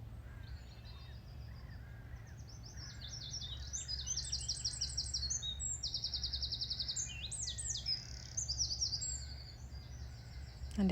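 Several birds sing outdoors in bright, overlapping chirps and trills that carry on steadily throughout, set against a low, constant rumble of background noise.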